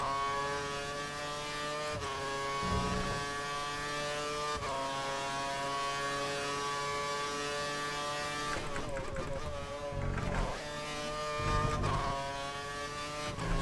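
A Formula 1 car in the racing game F1 2013 at the Brazil circuit holds a steady high-pitched engine whine through a practice lap, with gear-change dips and shifts, while a player talks quietly over it.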